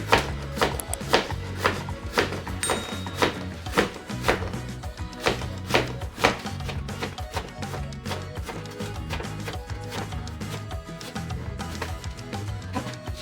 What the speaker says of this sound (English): Now we're gonna cut up the plantain, and we're just gonna go the same way.